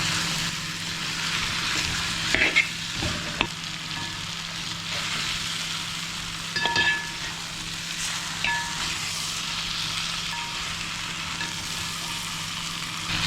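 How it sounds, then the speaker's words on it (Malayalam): Chicken pieces frying in a pan for Kerala-style chicken varattiyathu give a steady, close hiss of sizzling, with a few brief clicks and scrapes of stirring. "ചിക്കൻ ചേർത്തിട്ട് നമുക്കിതിനെ നന്നായിട്ട് ഇളക്കി എടുക്കണം"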